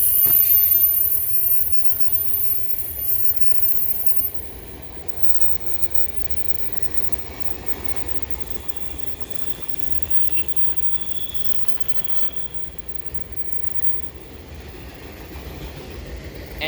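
CN freight train 276 rolls past near London, Ontario, heading east to Montreal: a loud, continuous rumble of railcars and wheels on track that eases slightly after the first few seconds as the end of the train goes by.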